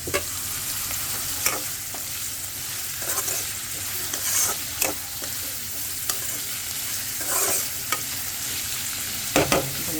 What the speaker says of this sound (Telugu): బీరకాయ పొట్టు మంచిగా ఉడికి బాగా మగ్గాలండి.